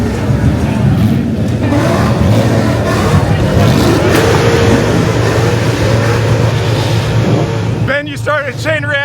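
An RTR Spec 5 demo car roars in the rain at a Ford nationals event, its engine droning loud and sustained with revving swells before easing near the end, where close voices talk over it.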